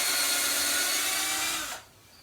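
A power drill bores a hole into a wall for mounting pegboard, a steady, loud whirring grind that runs continuously for nearly two seconds and then cuts off abruptly, leaving a quiet room.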